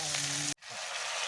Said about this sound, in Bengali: আমি কিন্তু এখনও জল দিইনি, এইভাবে কষিয়ে নিচ্ছি। আর অনবরত নাড়তে থাকতে হবে